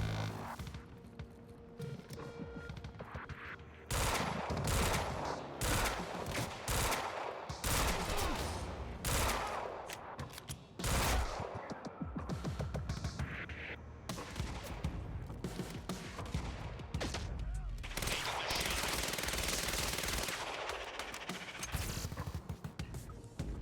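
Dense gunfire from the video game Quantum Break, rapid automatic bursts and single shots layered in heavy volleys with short pauses, loud and continuous for most of the stretch.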